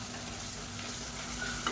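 Onions and tomatoes with salt sautéing in a pan for an egg biryani masala: a brief, soft, steady sizzle with faint stirring, no voices.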